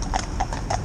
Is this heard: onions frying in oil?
no